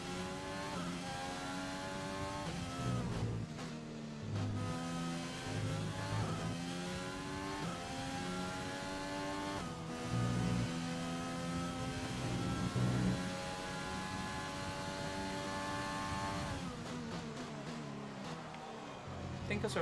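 Formula One race car engines in the racing game F1 2020 whine loudly and continuously, pitch climbing and dropping through gear changes across the whole stretch.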